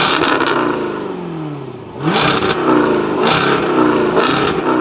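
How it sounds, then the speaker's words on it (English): A 2024 Jaguar F-Type R75 sports car with its active exhaust switched on revs hard several times, each loud, close blip rising to a roar and falling back between bursts. "Now let me turn the active exhaust on."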